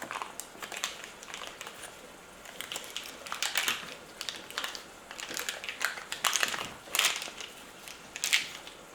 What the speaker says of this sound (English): So 6 tablespoons of butter. I'm going to get this cut into small chunks.